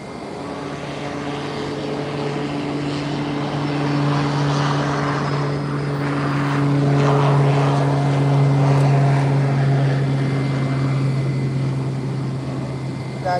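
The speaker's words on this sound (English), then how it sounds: "American 3250 coming in from Miami on an A321neo, the NX type. Now landing on 10." An American Airlines A321neo jet lands on runway 10, a broad steady engine roar swelling in the middle and easing off, heard from a distance.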